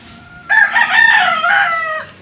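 A six-month-old high-class breed rooster crows once, loud and close, a bright, drawn-out call of about a second and a half over a quiet background.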